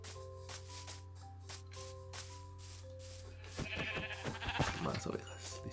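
Several short sheep bleats from Minecraft sound out over steady game music and a low hum, growing louder and busier toward the end.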